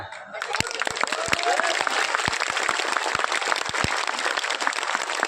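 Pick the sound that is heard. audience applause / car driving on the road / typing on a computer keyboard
audience applause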